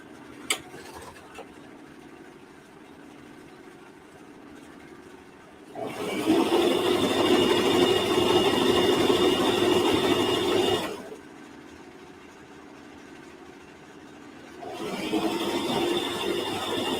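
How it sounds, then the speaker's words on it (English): A sewing machine stitching fabric for kid shorts runs in two steady mechanical bursts of several seconds each, separated by a quiet pause, close and fairly loud. "and start back sewing"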